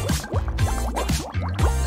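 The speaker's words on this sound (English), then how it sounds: "I just need to throw this into a ball of warm water and mix mix!" Warm water in a bowl being stirred as something is mixed in, with a series of close, wet sloshing and dripping sounds repeating in a steady rhythm across the short stretch.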